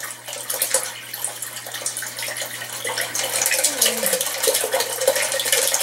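Water running and splashing through an aquaponic waterfall garden as it is rinsed, a steady close gush with small trickling variations and no talking over it.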